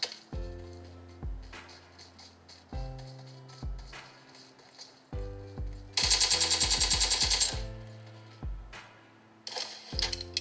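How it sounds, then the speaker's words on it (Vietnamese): Video game gunfire from bots shooting each other in a mobile shooter on a Realme 8 Pro, with a Snapdragon 720G: a rapid automatic burst mid-clip among scattered single shots, mixed with game music and effects. "Bót bắn nhau này."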